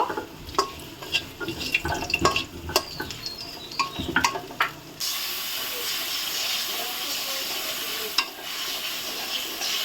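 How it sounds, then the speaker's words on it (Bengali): Scattered clinks and stirring knocks, then a steady, fairly loud hiss of potatoes frying in oil, with a single faint tap partway through. "এখানে হচ্ছে আলুটাকে ভেজে নিচ্ছি।"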